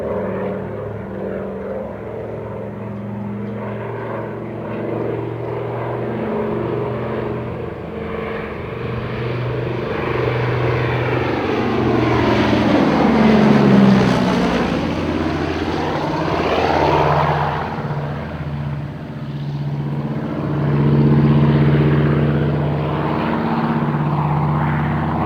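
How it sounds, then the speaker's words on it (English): A WW2-era Catalina flying boat built by Canadian Vickers in 1944 passes low and loud, its propeller engines droning steadily as they swell to a peak overhead and then fade slightly. "This particular aircraft was built by Canadian Vickers in Quebec in March 1944"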